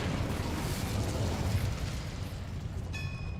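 The Incendio fire spell in Hogwarts Legacy erupts as a loud, roaring burst of flame that rumbles on for a few seconds, ending with a brief ringing chime.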